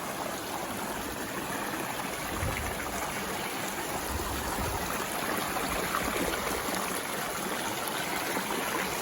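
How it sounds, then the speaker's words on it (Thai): A stream flows over rocks beside stone stepping paths at a roadside stop in Fukushima, Japan, giving a steady, fairly close rushing and trickling wash with no voices. "ไม่ใช่น้ำตกอะเป็นสายน้ำนะคะ ไหลผ่าน"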